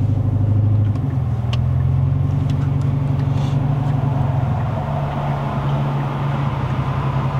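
A Kia Optima GT, 242 hp with 350 Nm, driving in Sport mode on new tires: loud, steady low engine drone and tire rumble from inside the cabin, pitch shifting slightly as it pulls.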